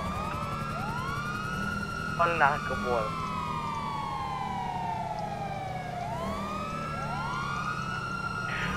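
Police sirens wailing in the game GTA V, several rising and falling tones sweeping across one another steadily throughout, with someone talking briefly under them.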